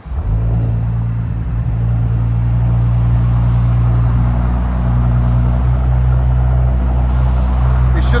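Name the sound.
2019 Audi S7 2.9L twin turbo V6 straight-pipe exhaust revving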